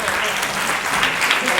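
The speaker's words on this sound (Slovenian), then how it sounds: "Dajmo en aplavz." A congregation at a church mission gathering in Prevalje breaks into loud, close applause, many hands clapping in a full, continuous burst.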